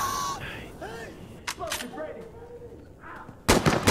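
Video game gunfire in Call of Duty with a sniper rifle: a few sharp shots crack amid game effects and combat noise, ending in a loud burst of fire.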